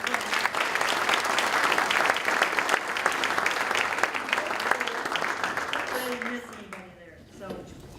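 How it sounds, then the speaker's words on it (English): A crowd at a community salute event applauds steadily for several seconds, then the clapping fades out and a voice begins speaking near the end. "let's please give them a round of applause"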